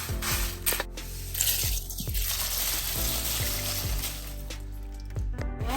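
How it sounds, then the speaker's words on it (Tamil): Dried red chilies dry-roasting in a pan for homemade Jaffna curry powder give off a dense, continuous crackle and sharp popping, loud and close, with faint intermittent scraping, and no voices. "கலகலண்டு சத்தமும் வருது மிளகாயில இருந்து"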